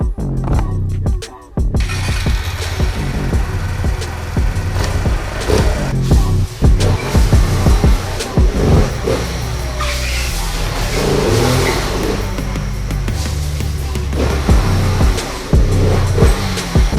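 An engine with a stock exhaust cranks and catches after a brief pause, then idles roughly and revs up several times, loud and close.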